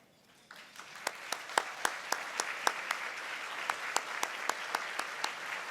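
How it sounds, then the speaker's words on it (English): Room applause for standing Head Start board members at an award ceremony, swelling from near silence into sustained clapping with a few sharp, close individual claps ringing out above the crowd. "could you please stand so we could give you another round of applause?"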